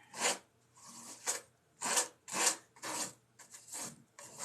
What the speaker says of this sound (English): just scrape and paint